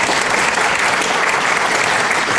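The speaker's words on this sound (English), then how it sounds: "Let's give Jasmine a big round of applause" A crowd at a 2016 Fasttrack grand final applauds a singer, with loud, continuous, dense clapping that fills the whole stretch without a break.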